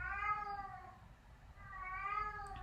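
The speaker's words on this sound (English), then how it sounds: "I'm sorry if you can hear this cat's high-pitched meowing" A cat meows high and drawn-out just outside a closed door, two long wavering cries with a pause between, fairly close and alone with no talking.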